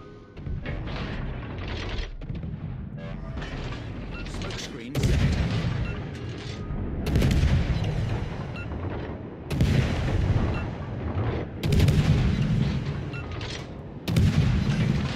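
A destroyer in World of Warships fires its guns in repeated heavy booming volleys, one roughly every two to three seconds, each loud blast followed by a rumbling decay.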